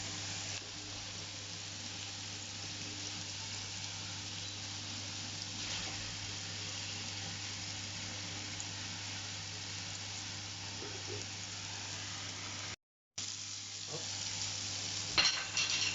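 Lamb kefta sizzling in a frying pan, a steady, even hiss of frying that holds at a moderate, fairly quiet level throughout, broken by one short dropout near the end, with no talk.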